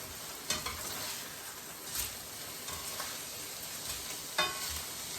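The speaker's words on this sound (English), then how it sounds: "I'm going to flip these hamburgers" Hamburgers sizzle softly in a pan at home, a low steady hiss with a few brief scraping bursts as the patties are flipped.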